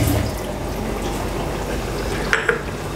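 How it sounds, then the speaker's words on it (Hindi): Mutton stock (yakhni) is poured into a pot of Arabian mutton biryani, giving a steady close sizzling, liquid hiss that ends with a couple of light metallic clinks. "अब इसमें मैं डाल दूंगी ये जो मैंने यखनी अलग की थी"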